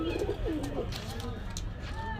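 Pakistani pigeons coo at a pigeon market in Khulna, with low throaty coos under faint voices and market murmur.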